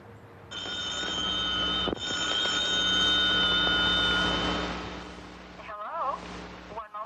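An old-style telephone bell rings loudly and steadily for several seconds, then stops, and a voice answers briefly afterward.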